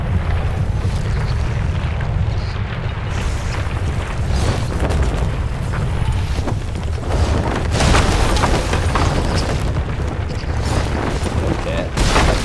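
Volcano eruption in a sailing video game, dense rumbling booms and roaring blasts running continuously, loud and close, with voices talking over parts of it.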